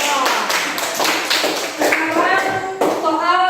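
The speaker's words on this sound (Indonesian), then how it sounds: "Kasih tepuk tangan dulu buat kelompok 2" Classroom group applauding another group of students, a steady patter of hand claps close by with voices speaking over it throughout.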